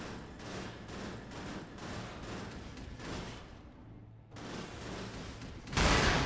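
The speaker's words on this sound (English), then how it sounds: "left trigger is my machine gun this time" Rapid machine gun fire in the Cryptark shooter game, dense continuous chattering bursts with a short lull before a louder blast at the end.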